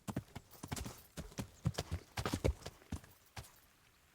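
Horse hooves clip-clopping in the video game Kingdom Come: Deliverance, a steady run of close, sharp hoofbeats with uneven rhythm and no talking.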